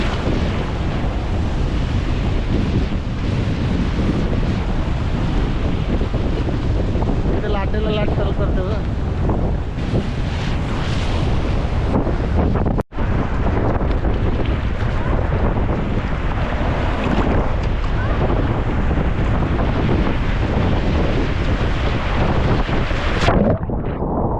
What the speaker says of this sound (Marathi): दोन्हीकडची लाटा तुम्हाला मारतात